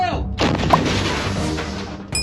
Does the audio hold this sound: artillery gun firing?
yes